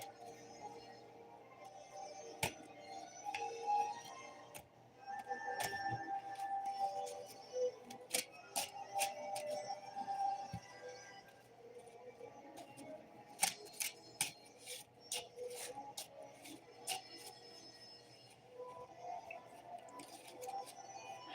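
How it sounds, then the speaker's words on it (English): Tarot cards are shuffled by hand in a quiet room, giving faint irregular flicks and sharp card snaps that cluster in bursts over about twenty seconds, with no speech. "so I want to just shuffle it all up"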